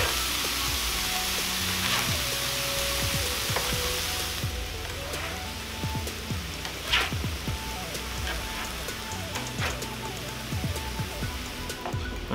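Steak fajitas sizzling on a Presto indoor griddle, a close continuous hiss with popping and crackling spatters, louder in the first few seconds and then settling to a steadier sizzle with sharp pops.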